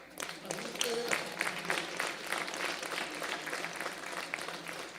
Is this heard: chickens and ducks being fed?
no